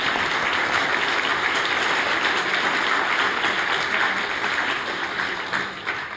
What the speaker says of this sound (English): we'll give a final round of applause to our panelists.